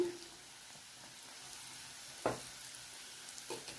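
Onions frying in a pan with turmeric and salt give a quiet, steady sizzle, broken by a sharp spoon scrape partway through and a few softer stirring clatters later.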